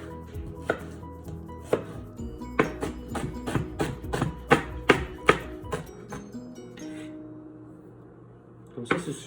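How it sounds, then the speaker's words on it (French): A knife coarsely chops a French shallot on a board for homemade pizza sauce, a series of close, sharp thuds at an uneven rhythm that slows and then stops. "je vais commencer par l'échalote française. Ce que je vais faire, je vais le hacher grossièrement"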